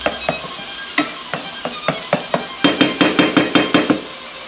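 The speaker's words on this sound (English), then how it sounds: "Then we're just going to stir this olive oil and this delicious garlic into there," Olive oil and chopped garlic stirred in a pan over heat, a spoon knocking and scraping in a steady rhythm over a soft sizzle that grows brisker toward the end. No talking.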